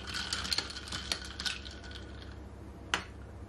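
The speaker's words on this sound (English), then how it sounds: "I'm gonna give it a stir." A metal spoon clinks against a glass of cucumber juice as it is stirred, making a run of light taps up close, then a pause and one last sharp clink.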